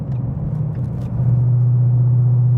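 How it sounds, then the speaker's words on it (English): A 2015-2017 Ford Mustang GT with an MBRP 3-inch aluminized race series cat-back exhaust idles and rumbles with a deep, steady, loud drone that swells slightly partway through. "The race is definitely an aggressive sounding exhaust."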